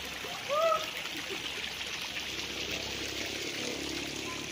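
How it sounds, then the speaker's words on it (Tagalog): Spring water flows and trickles steadily into a resort pool in Liliw, Laguna, in a continuous gentle rush, with a brief faint voice-like tone near the start. "Galing sa bukal yung tubig nito, yung pinanggalingan."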